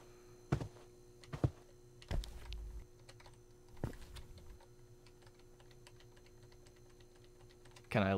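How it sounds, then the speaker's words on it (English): Keys struck on a computer keyboard in irregular bursts of clacks and thunks, close but quiet, with long gaps between groups of presses and a faint hum underneath. "I need to get a better keyboard"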